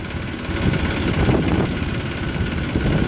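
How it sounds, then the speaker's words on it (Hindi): A tractor engine runs steadily while driving slowly along a road, a loud, continuous low rumble with wind noise and no speech over it. "अब मैं ट्रैक्टर लेके जो है वहीं पहुँच रहा हूँ धीरे धीरे रोड पे।"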